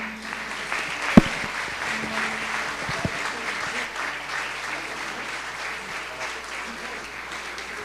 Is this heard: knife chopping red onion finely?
no